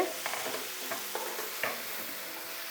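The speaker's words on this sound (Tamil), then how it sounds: "தக்காளி நல்லா வதங்கிடுது" Tomatoes and onions sautéing in a pan for a drumstick thokku, a steady soft sizzle with intermittent stirring scrapes, close and without talk.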